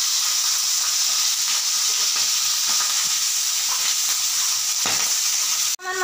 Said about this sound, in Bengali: মাছগুলো আমি একে একে দিয়ে দেব। উল্টিয়ে নেব। পাবদা মাছ বেশি ভাজতে হয় না